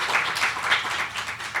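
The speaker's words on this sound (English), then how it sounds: "Give Saru a round of applause" Audience at a conference on ending subminimum pay giving a round of applause, a brief steady patter of many hands clapping at moderate distance.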